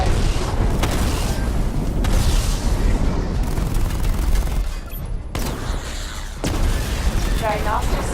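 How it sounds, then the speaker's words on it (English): Missile barrage explosions in the video game Batman Arkham Knight: rapid loud booms and blasts rumble in a heavy fusillade, with a brief lull midway before more detonations and mechanical whirring resume. "and activate missile barrage"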